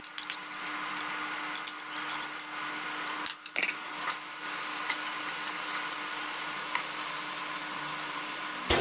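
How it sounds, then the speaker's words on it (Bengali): Chopped green chillies and vegetables for mutton fried rice fry in a pan with a steady, fine crackling sizzle, a few louder clatters and stirring scrapes around the middle, then the frying carries on evenly. "কাঁচামরিচ কুচিগুলো দিয়ে আমি আবারও ভাজবো।"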